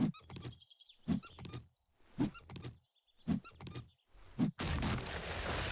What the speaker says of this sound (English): So that's like the plastic hammer sound.